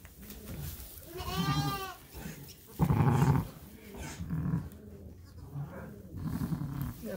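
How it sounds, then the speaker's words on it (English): Triplet lambs bleat at feeding time, with a couple of wavering, close bleats mixed with rustling and handling noise, and a person speaking softly among them. "So we're going to start feeding the lambs."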